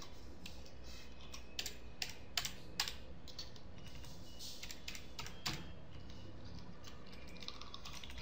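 Keys clatter on a computer keyboard in quick irregular bursts of clicks with short pauses between, close and fairly quiet, nobody talking.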